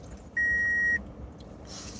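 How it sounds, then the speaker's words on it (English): A single clear electronic beep from an air conditioner being switched on, a steady tone lasting just over half a second against a quiet room background. "Let me turn on my air really fast. Excuse the beeping for a second."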